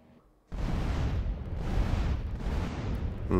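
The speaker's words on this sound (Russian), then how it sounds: "Взрывы идут абсолютно не там, куда самолет упал. Просто взрывы в воздухе тупо, короче, были." Explosions burst in mid-air in GTA San Andreas The Definitive Edition, a loud, continuous rumbling roar that swells in about three waves, with no talking over it.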